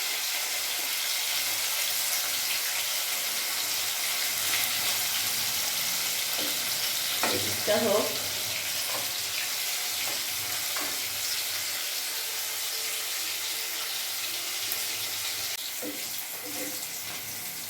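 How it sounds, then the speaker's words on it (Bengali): Pieces of rui fish fry in hot oil with a constant bright sizzle, joined by occasional scraping and clinking of a utensil near the middle, while a voice speaks briefly. "আমার মাছগুলো ভাজা হয়ে গেছে"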